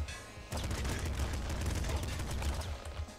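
Rapid machine gun fire from the top-down shooter Nuclear Throne, a dense continuous stream of shots that starts abruptly after a brief quiet moment and rattles on to the end.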